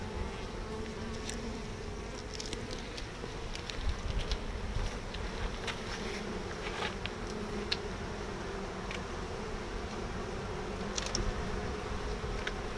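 Honey bees buzz steadily around an open hive during a beekeeping inspection, a continuous moderate drone with occasional louder passes of individual bees close by, no voices.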